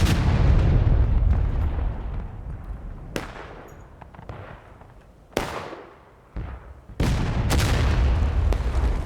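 Civil War cannon fire from an artillery battery in War of Rights at Nicodemus Hill booms in several heavy, sharp blasts spaced seconds apart over a rumbling battlefield din, with a brief spoken exclamation.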